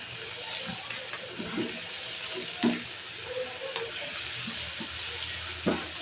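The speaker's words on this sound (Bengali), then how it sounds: "এখন আমি চিকেনটা দিয়ে সেটাকে কষিয়ে নিচ্ছি।" Chicken sautéing in a pan for noodles gives a steady broadband sizzle, with occasional utensil scrapes and clicks against the pan close by; no voices are present.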